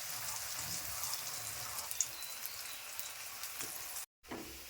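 Chana dal dalna pieces frying in a little oil in a hot kadai give off a steady, close sizzle and crackle that runs evenly throughout, with a brief break near the end.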